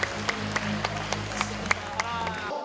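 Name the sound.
audience applause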